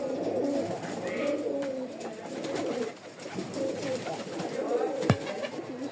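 Giribaz pigeons coo steadily in a loft, their low throaty calls overlapping throughout, with one sharp knock near the end.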